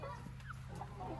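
Young roosters clucking in a poultry pen, a steady stream of soft, close calls over a constant low hum.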